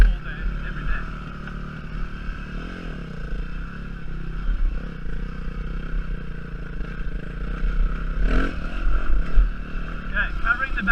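A dirt bike engine runs steadily through practice for a wheelie, a low drone that surges louder near the end as the throttle opens.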